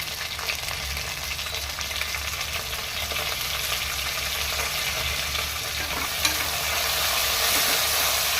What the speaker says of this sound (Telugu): ఇలాగ గోల్డ్ కలర్ వచ్చే వరకు బాగా కొంచెం బ్రౌన్ కలర్ లాగా ఫ్రై చేసుకోవాలి